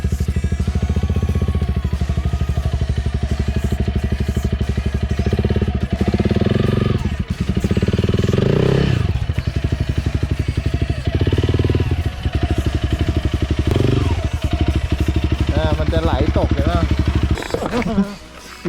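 An enduro motorcycle engine runs loud and steady throughout as it climbs a steep, sloping mountain trail at Doi Soi Malai, revving and clattering over rough ground. Riders talk over the engine.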